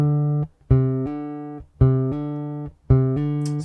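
Bass guitar hammer-ons come in three evenly spaced pairs, each a plucked low note followed by a second note sounded by the fretting hand at a similar volume. The notes are clean, close and alone.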